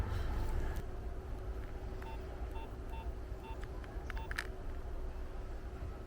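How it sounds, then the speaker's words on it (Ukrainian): Faint, evenly spaced electronic beeps over a steady rumbling hum, with a few soft clicks, as a 2004 Nokia 2600 mobile phone plays its startup tones. "От як запускався даний телефон."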